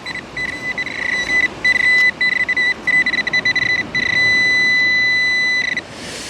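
Nokta metal detector signalling an iron target on wet sand at the beach, a loud steady electronic tone broken into choppy beeps of varying length, then a sustained tone near the end, with no talk over it.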